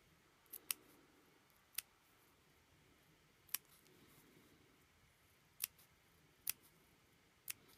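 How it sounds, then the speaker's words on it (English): Small sewing scissors snip into the curved seam allowance of a flat Peter Pan collar: about six crisp, isolated clips at irregular intervals over a quiet background. "I'm going to use my smaller scissors."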